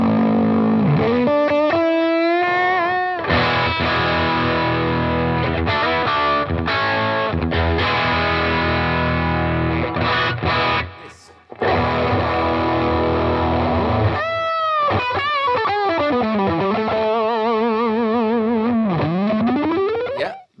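Distorted electric guitar played through a small practice amp with bass off and treble maxed, giving a bright, harsh top end, riffs, sustained notes and wide pitch bends, briefly cutting out midway.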